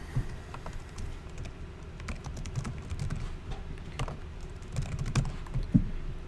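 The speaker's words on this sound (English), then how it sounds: "type in a name" Fingers type on a computer keyboard in quick, uneven bursts of soft clicking keystrokes, fairly close but quiet, with a few louder taps near the end and no voices.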